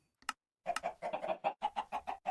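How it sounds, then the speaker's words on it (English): Minecraft chickens from the FTB StoneBlock 4 modpack cluck in a quick, rhythmic run of short bursts after a brief pause, close and clear with no other sound. "Feather chickens, flint chickens, glass chickens, etc., emerald chickens, diamond chickens."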